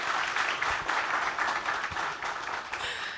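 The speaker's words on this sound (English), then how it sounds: "Can you please give a big round of applause for this guy?" A conference audience gives a speaker a round of applause after a talk on a developer command-line tool, with dense, even clapping that fills the room for a few seconds and then starts to fade.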